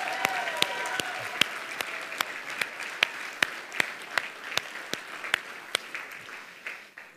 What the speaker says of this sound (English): Them one more round of applause,